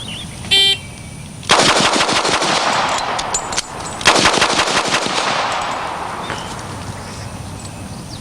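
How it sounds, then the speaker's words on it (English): Revolver fired six times in quick succession, a pause for reloading, then six more sharp, loud shots close by, each with a ringing echo trailing off. "we're going to shoot 6 and reload."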